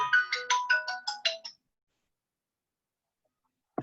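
A mobile phone ringtone from an incoming call plays as a quick series of bright chiming notes, loud and close, then cuts off into silence before a brief sound at the end.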